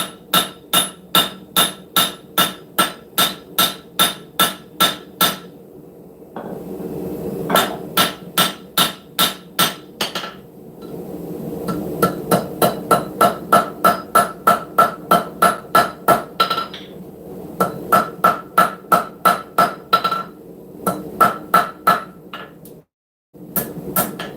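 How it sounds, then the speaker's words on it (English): A rounding hammer strikes hot steel, flaring the tang of a forged camp knife on an anvil, in long runs of fast, evenly spaced ringing blows, loud and close, separated by brief pauses and low background noise. "What I'm going to do is I'm going to flare out the end of this tang a little bit."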